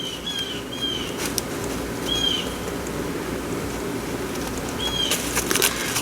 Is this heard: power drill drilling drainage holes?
no